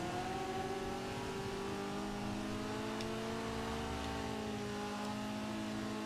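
A car engine in Forza Horizon 2 drones steadily and loudly, its pitch gliding up and down as the driver works the throttle on an old-school car, with no talking.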